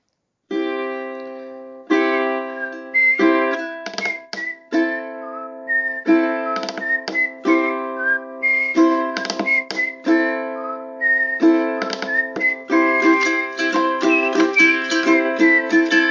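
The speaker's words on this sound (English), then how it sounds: "I'll play this song first with whistle melody" A whistled song melody, solo and close, with clear sustained notes and short phrases separated by brief pauses, steady throughout.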